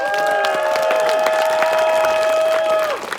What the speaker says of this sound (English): Give another round of applause for Sacred Smoke and Ritual.